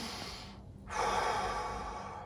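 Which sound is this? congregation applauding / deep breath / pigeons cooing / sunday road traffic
deep breath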